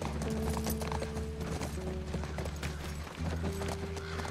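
Horse hooves clip-clop steadily at close range, with mechanical rattle beneath, during a ride in The Last of Us Part I, a video game with a musical score.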